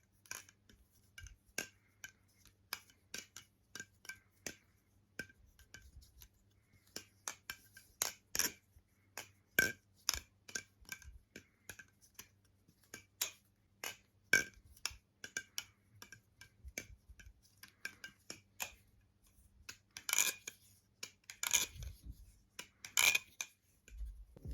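A Nautilus v2 balisong knife with carbon honey inside, flipped in rapid sequences of sharp metallic clicks, ticks and snaps, close and fairly quiet, in irregular bursts with no talking.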